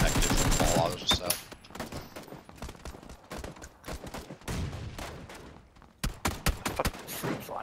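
Rapid gunfire from a compact, smaller-caliber suppressed-style rifle in a video game, with fast bursts of sharp shots broken by short pauses, fairly close and loud.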